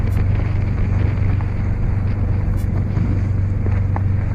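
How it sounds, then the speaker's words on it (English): A strong breeze buffets a microphone in a sailboat cockpit, producing a loud, constant low rumble with steady whooshing gusts throughout and no speech. "So just a look at how breezy it can get."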